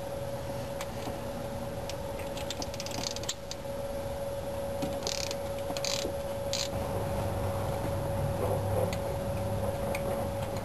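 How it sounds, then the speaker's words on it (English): Ratchet clicking steadily while 9/16 intake manifold bolts come off a Chevy small-block V8, quick close ticks in short runs over a constant background hum, with no talking. "We're going to start taking these intake bolts off one by one."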